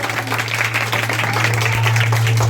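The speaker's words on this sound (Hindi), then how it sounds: "जोरदार तालियां राम भजन के लिए।" Steady audience applause for a poetry performer at a school Independence Day celebration, a dense wash of clapping filling the whole moment over a constant low electrical hum.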